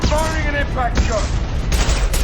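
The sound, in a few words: impact shot gunfire in video game Mass Effect 2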